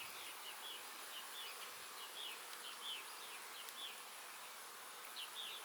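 Honeybees hum faintly around frames pulled from a backyard hive, a soft, continuous buzz with small chirping accents over quiet outdoor ambience and no voices.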